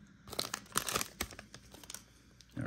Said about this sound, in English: I think we need a blade for this. Cut this open.